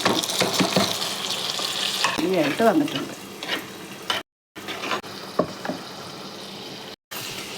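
Prawns frying with onions in a pan, a steady close sizzle with stirring scrapes and clinks, a brief spoken phrase early on and two short dropouts to silence.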